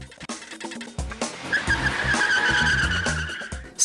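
Tires squeal as a car skids in the Top Gear: Race The Stig video game, a sustained screech that rises over engine and game sounds after a few sharp opening hits.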